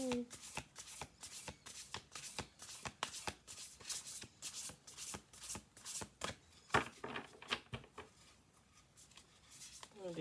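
Oracle cards riffled and shuffled over and over in a quick, steady rhythm of papery flutters and snaps, close and clear, with a brief voice near the start and end.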